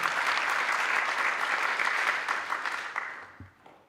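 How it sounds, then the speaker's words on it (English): A burst of applause from a crowd at a TVET college policy conference, dense clapping that holds steady and then tapers off toward the end. "I think we need to clap hands for that."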